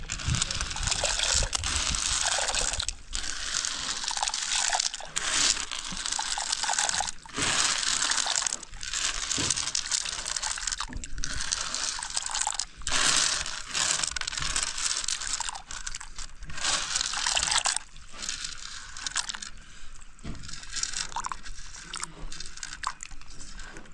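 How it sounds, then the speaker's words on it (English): Dry beans poured into almost-boiling water in a pot on a jiko, a rough rattling, splashing rush that stays loud and continuous from start to finish, with brief breaks in the pour. "Actually the water is almost boiling, so I'll pour my beans inside."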